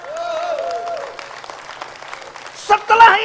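Audience applause at an indoor leadership training meeting, a short burst of clapping rising near the end after a stretch dominated by tonal background sound.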